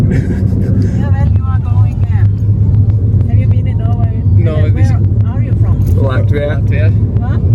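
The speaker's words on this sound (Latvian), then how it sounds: "Reāli citi brauc ar autobusu, mēs ātri nostopējām mašīnu" Inside a hitchhiked car on a road in Norway, a steady low engine and road rumble runs throughout, loud and close, while people talk over it.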